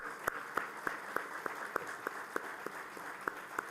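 Applause from the audience at an African football confederation awards ceremony, a steady clapping crowd with sharp individual claps standing out at a regular beat, moderately loud and without talk.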